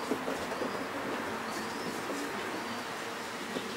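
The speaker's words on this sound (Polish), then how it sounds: "to jest Janusza Szalkowskiego gołąb" A racing pigeon coos softly amid a faint, noisy loft background, low murmuring calls repeating without any clear speech.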